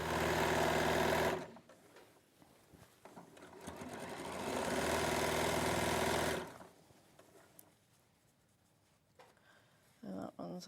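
A sewing machine stitches a Shallow Falls wall hanging in two loud continuous runs, a short burst and then a longer stretch, with quieter pauses between them and faint talk in the gaps.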